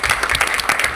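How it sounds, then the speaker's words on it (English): Brief burst of audience applause at a school board meeting, honoring an administrative assistant; dense clapping heard alone for about a second. "I just want to give her a round of applause"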